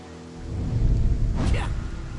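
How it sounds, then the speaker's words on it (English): Thunderstorm in a TMNT roguelite action game: a dense wash of heavy rain swells in, with a loud rumbling thunder burst in the middle that fades back into the steady downpour, no talking. "It was a dark and stormy night."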